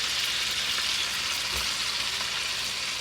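Peeled, deveined tail-on shrimp fry in an uncrowded skillet, giving a steady, close, loud sizzle with a few crackling pops, no voices.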